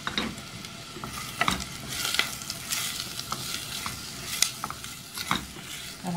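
Onions sizzling in hot oil in a pot, a steady frying hiss with scattered crackles and occasional stirring scrapes, close and continuous with no voices.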